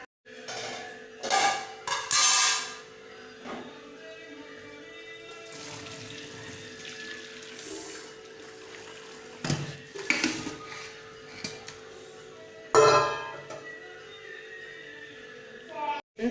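Water is strained off cooked food, gobi, in a kitchen: splashing pours and clinks of a pot and utensils come in short bursts while a person talks throughout.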